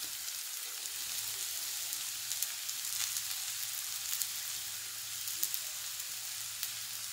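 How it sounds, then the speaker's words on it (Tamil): Onion and drumstick leaves sauté in a pan with a faint, continuous crackling sizzle and scattered soft pops, steady throughout with no voices. "இப்போ வந்து வெங்காயம் கொஞ்சம் வதங்கினோடனே இந்த கீரையும் போட்டு லைட்டாக வதக்கிறோம்."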